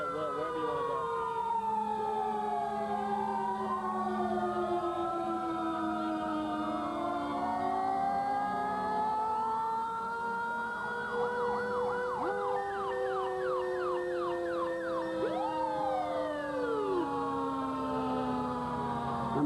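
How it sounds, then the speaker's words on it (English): Several fire apparatus sirens wail and overlap steadily at a parade, rising and falling continuously at moderate distance with crowd ambience beneath. "I'm sure you can still hear the fire apparatus."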